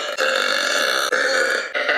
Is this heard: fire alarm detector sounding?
no